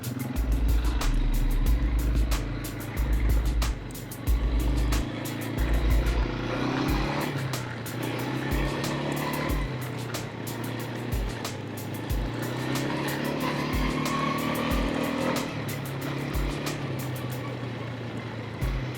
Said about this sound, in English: they've got some sick quads there